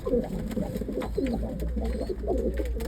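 Pigeons coo in a coop where squabs are being raised, with soft repeated rolling coos close by and a low background hum.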